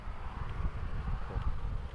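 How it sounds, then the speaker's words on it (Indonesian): Strong wind gusting outdoors at a roadside stop on a Sumatra road trip, a steady loud rumbling buffet across the microphone with low booming surges throughout, no speech. "Anginnya kencang"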